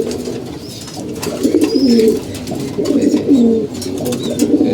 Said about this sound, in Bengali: দুই পেয়ার সাদা আর্মি লাইনের কবুতরগুলো